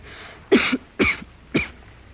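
Three distinct, fairly loud coughs spaced about half a second apart, close to the listener, with quiet in between and no talking.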